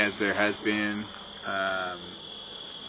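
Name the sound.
crickets chirping in distant fields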